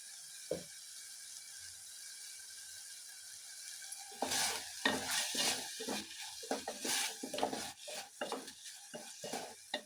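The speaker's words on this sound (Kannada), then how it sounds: "ಎಲ್ಲದನ್ನು ಹಾಕಿ ಚೆನ್ನಾಗಿ ಮಿಕ್ಸ್ ಮಾಡಿ ಫ್ರೈ ಮಾಡ್ಕೊಳ್ಳಿ ನೀಟಾಗಿ" Masala frying in a pan and being stirred with a spatula: a steady soft sizzle, then repeated scraping strokes against the pan, close and clear with no talking.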